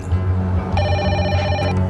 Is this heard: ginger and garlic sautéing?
no